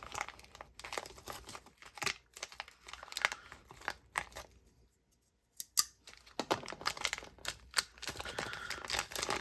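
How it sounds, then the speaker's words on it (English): Plastic bag being cut and torn open while unboxing Lautie Euclid prybars, close crinkling and rustling in bursts with a brief quiet gap, then more crackling handling. "I always do that, and then I realize I need to cut the bag."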